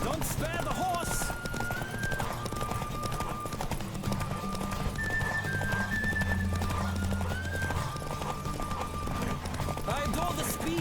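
A horse gallops in The Witcher 3, its clip-clop hoofbeats running continuously with clear neighs and whinnies rising above a dense layer of game music and ambience, with a voice talking over the ride.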